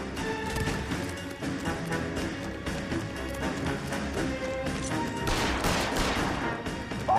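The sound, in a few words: gunfire in L.A. Noire video game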